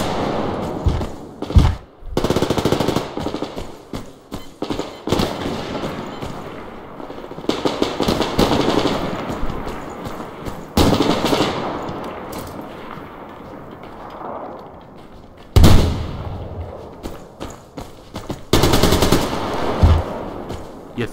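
Bursts of AK rifle gunfire in the shooter game Survarium, loud, rapid automatic volleys broken by pauses, with some quieter distant shots between them.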